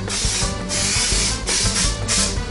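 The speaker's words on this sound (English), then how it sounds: "While this is getting warmed up, I'm going to hit it with some cooking spray." Cooking spray hisses from a can onto a warming NuWave Medley XL electric skillet, loud and close in three continuous bursts with brief pauses between them.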